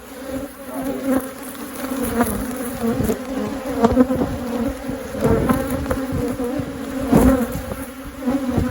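Honey bees buzz around an open hive during a beekeeper's inspection, a dense close swarm drone that swells and fades continuously with no talking.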